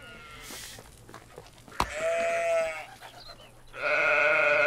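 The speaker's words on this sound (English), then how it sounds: "Oh, look at the goats. They sell goats here?" Goats and sheep bleat in the medieval survival game Medieval Dynasty, with a sharp click partway through, then a long quavering bleat and a louder, sustained bleat at the end.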